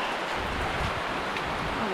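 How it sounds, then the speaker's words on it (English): Heavy rain falls on a farm in Mindanao during flooding, a constant, dense hiss of downpour on surfaces that holds evenly across the moment without any talking. "It's so much rain."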